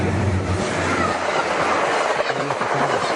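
A train rolls past on railroad tracks, a steady broad rumble with faint rhythmic clatter of wheels, heard from nearby throughout without pause.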